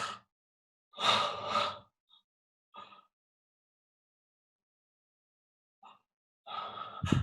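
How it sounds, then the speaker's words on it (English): A person breathes while expressing fear: sharp gasps and rushed breaths in separate bursts with long silent gaps between, close and fairly quiet. "You notice there's breathing that goes with that."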